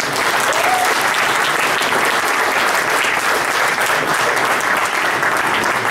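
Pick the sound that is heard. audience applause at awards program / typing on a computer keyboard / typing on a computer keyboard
audience applause at awards program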